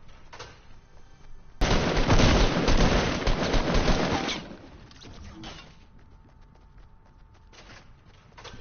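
Gunfire in the video game Fortnite, a loud sustained burst of rapid shots lasting a few seconds, then quieter sporadic shots in the background.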